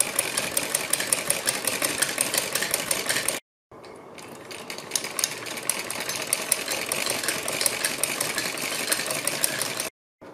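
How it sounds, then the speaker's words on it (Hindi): Sewing machine running steadily while stitching around the back neckline of a blouse, a continuous loud mechanical whir with two brief stops, no talking. "हमें अपना गला इस तरह से बीच बीच में सीधा करते रहना है"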